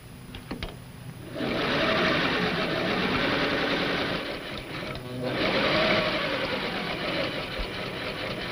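A 1950s sewing machine stay-stitches the front bodice of a jumper around the round neckline, running in a steady, loud mechanical whir after a few clicks, with a brief pause midway before it resumes.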